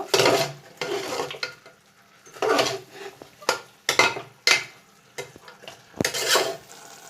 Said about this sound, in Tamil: மசாலாவும் கொஞ்சம் எண்ணெயில் அப்படியே ரோஸ்ட் ஆகட்டும். மசாலா போட்டுட்டு நல்லா மிக்ஸ் பண்ணிவாங்க